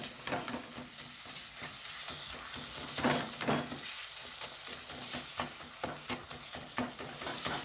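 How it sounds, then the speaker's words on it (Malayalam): Tomatoes get mashed and stirred in a frying pan with a spoon, a soft sizzle broken by repeated scraping strokes and squelching pulses in an irregular rhythm, close and moderately loud, no speech. "അപ്പോൾ ഗൈസ് നമ്മൾ തക്കാളി നല്ലോണം ഇതിനകത്തിട്ട് ഉടച്ചു കൊടുക്കുകയാണ്."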